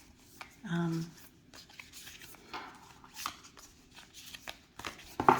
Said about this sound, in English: Let's pull 3 cards just for fun.